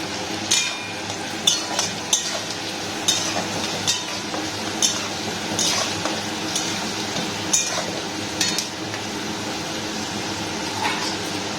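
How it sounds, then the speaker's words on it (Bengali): Sliced onions sizzle in hot oil for Kolkata-style mutton biryani, a steady close crackle with scattered sharp clinks of a stirring spoon against the pan. "পেঁয়াজটা ভাজা হয়ে গেছে"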